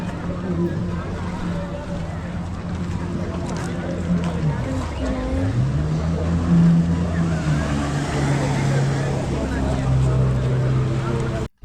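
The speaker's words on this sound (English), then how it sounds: "So we're gonna be speedboating on that." A motorboat engine drones loudly and steadily on Upper Kachura Lake, its pitch rising and falling as it runs, with wind and water noise alongside.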